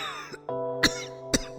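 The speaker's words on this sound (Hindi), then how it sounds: "अलमारियों की धूल से खांसी उखड़ने लगी थी।" A few short coughs and throat-clearing sounds from someone choked by dust from cupboards, close and fairly quiet, spaced out over about a second and a half.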